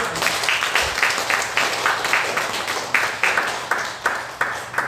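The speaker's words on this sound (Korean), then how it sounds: "박수로 축하하고" A church congregation claps together in a steady, rhythmic round of applause, moderately loud and even, with no speech over it.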